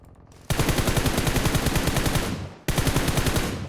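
Rapid automatic gunfire in a video game, two long bursts of evenly spaced shots close and loud, separated by a brief pause.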